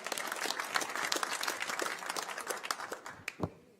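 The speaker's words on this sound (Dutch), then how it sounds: "Applaus voor de lijsttrekkers trouwens even." Audience applause for the lead candidates at a local election debate in Tytsjerksteradiel, a dense patter of clapping that thins toward the end, with a few sharper individual claps standing out.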